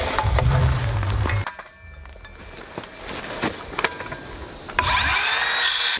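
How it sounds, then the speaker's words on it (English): A chisel cuts into the wood of a firewood shed gullet in short bursts of scraping and knocking, with quiet gaps between strokes and a rougher rasp near the end. "You cut towards yourself with a chisel."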